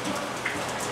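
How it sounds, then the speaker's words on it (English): Steady heavy rain hisses and patters evenly outdoors on a wet workday, a dense continuous wash of drops with no voices. "it's been raining since like 9 this morning"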